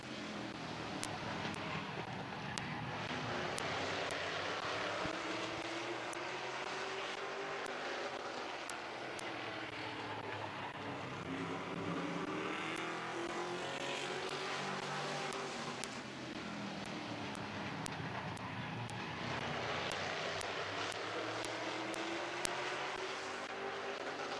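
Race cars roaring around Midvale Speedway, a continuous engine drone that rises and falls in pitch as the cars pass, heard from a distance without talk.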